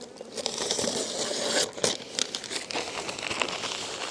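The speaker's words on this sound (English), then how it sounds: "Newspaper in there." Newspaper crumpled and stuffed into a bee hive, a close, dry crinkling and rustling with several sharper crackles and tearing bursts in the middle.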